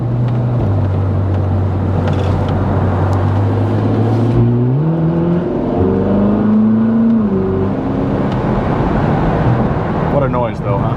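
Ferrari 458 Spider engine revs up loudly in the cabin, its pitch rising and falling over a steady road rumble, heard up close and continuous.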